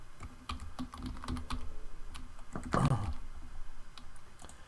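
Quick clicks of typing on a computer keyboard while entering multiple-choice and true/false questions into a Google quiz, a faint, uneven run of keystrokes with a short flurry near the middle, no voices.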